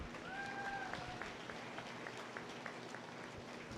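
A crowd at a county fair Holstein dairy cattle futurity show claps for exhibitors and the committee, a faint, distant patter of applause lasting a few seconds.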